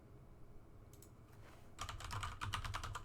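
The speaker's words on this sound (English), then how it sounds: "When I start typing" Rapid keystrokes on a computer keyboard, starting with a few isolated taps and then building into a steady burst of close, crisp typing in a quiet room.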